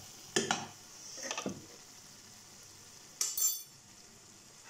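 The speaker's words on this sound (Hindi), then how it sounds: "इसे मिक्स कर देना है।" A spoon stirs broccoli potato curry in a pan, with a few scraping, clinking strokes separated by quiet gaps and a soft sizzle beneath, close and fairly faint.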